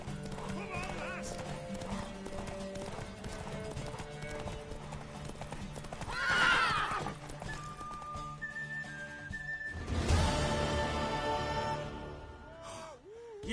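Horse hooves clip-clop and a horse whinnies in The Witcher 3 video game, with a mare galloping under game music and character talk, a louder whinny bursting out around the middle and again near the end.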